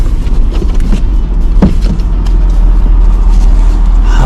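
A Mitsubishi 3000GT cruises along with a loud, steady low engine and road rumble inside the cabin, one brief thump partway through, no voices.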